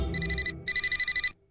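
An electronic phone ring trills in rapid pulsing bursts, two quick ringing phrases with a short gap between, close and loud, then it stops.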